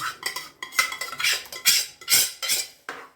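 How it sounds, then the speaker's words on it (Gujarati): Boiled dal is stirred into cooked masala in a pot, with repeated rhythmic metal spoon scrapes and clanks against the vessel, loud and close, with no voices. "હવે આપણે આ બાફેલી દાળ અંદર એડ કરી દઈએ આપણે"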